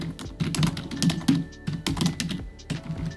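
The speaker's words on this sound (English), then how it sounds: "that's why I'm like messing up typing a lot" Close clicking of a computer keyboard as an email is typed, in irregular bursts of keystrokes with brief pauses between them.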